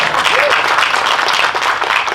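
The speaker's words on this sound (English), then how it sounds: "You can clap." Audience applause at a dedication ceremony for a new housing development in Stockton, California: dense, steady clapping from a crowd that fills the short stretch, with a faint voice underneath.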